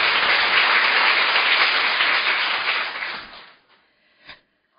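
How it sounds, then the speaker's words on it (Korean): Large applause for a re-elected national assembly committee chair at an opening ceremony: a dense, steady crowd of clapping for about three seconds, then fading out, with one last stray clap. "다시 한번 큰 박수 부탁드립니다"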